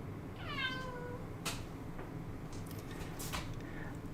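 Pet cat Dot lets out a clear drawn-out meow close by, followed by a couple of sharp clicks and knocks in a quiet room with a low steady hum.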